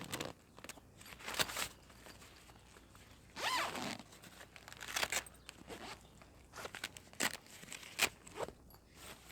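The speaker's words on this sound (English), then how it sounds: "zip it back." A zip on the Trakker Tempest 100 DPM carp-fishing brolly panel runs in a series of quick, sharp zipping strokes with pauses between them, close and fairly quiet, with no talking.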